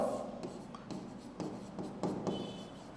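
A marker scratching on a board during a class 10 chemistry lesson, several short quiet strokes in quick irregular succession, no talk.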